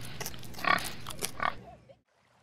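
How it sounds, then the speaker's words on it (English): A pig grunts and oinks in a few short, snuffling bursts close by, moderately loud, then falls silent near the end. "Oink, oink."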